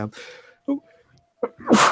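A single sharp sneeze bursts out at the end, loud and close, after a few short bits of speech.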